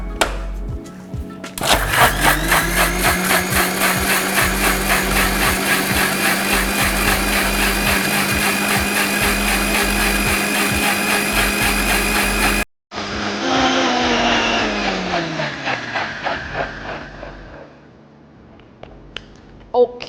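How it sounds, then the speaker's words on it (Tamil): A mixer grinder blending pineapple mocktail ingredients whirs loudly and steadily for several seconds, cuts off briefly, then restarts and winds down to silence. "இப்போ மிக்ஸியை ஆன் பண்ணி இது எல்லாத்தையும் ஒன்றா சேர்த்து பீட் பண்ணிக்குவோம்"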